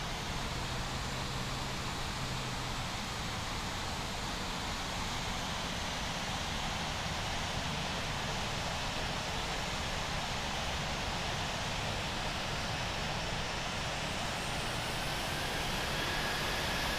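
Airliner engines idle in the Infinite Flight game during an Avianca pushback at a New York airport, a steady broadband whooshing hum that stays loud and even throughout with no talk.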